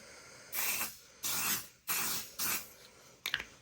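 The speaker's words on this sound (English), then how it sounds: "So we sprayed that, and it is non-toxic." Short hissing blasts of aerosol fixative spray, non-toxic and archival, onto a colored pencil drawing: four distinct bursts about half a second each, close and loud, followed by a brief rattle.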